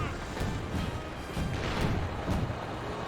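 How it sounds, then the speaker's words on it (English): Artillery smoke barrage in Company of Heroes 2, a string of dull distant thuds and crashes spread across a few seconds under a low battlefield rumble. "He does bring in an artillery smoke barrage."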